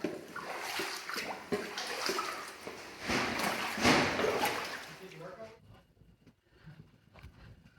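Footsteps squelch and slosh through sticky, sinking mud deep inside a cave, with repeated wet, sucking steps close by. Muffled voices mix in, and the sound grows quieter and sparser toward the end.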